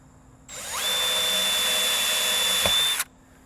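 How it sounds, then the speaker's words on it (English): A power drill bores through car body sheet metal while fitting a rear wing to a Ford Focus ST, a single steady high-pitched whine lasting about two and a half seconds, close and loud, ending with a brief crunch as the bit breaks through. "Just try and keep the drill as perpendicular to the surface as you can when you drill that other surface."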